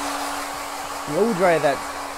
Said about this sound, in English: And if you've got a blow dryer, blow dry that